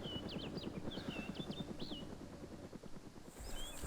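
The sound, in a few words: helicopter flying overhead in video game DayZ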